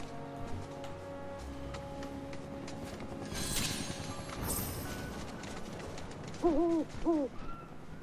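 Two distinct owl hoots ring out toward the end of the stretch, close and clear above the game's background ambience in Final Fantasy VII Rebirth.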